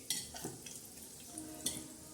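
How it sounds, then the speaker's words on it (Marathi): Green chillies coated in besan batter fry on a tava, giving a faint, low sizzle with a few light scraping and tapping sounds from a spoon, quiet and without speech. "तर आता ह्या मिरच्या आपल्या छान अशा तव्यावर टाकलेल्या आहे"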